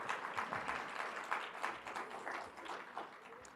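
An audience at the Washoe Impact Awards morning ceremony applauds in a steady, faint wash of many hands clapping, sounding distant and even throughout.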